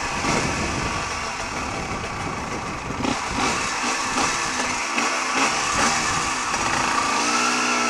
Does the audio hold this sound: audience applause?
no